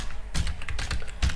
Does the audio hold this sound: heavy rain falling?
no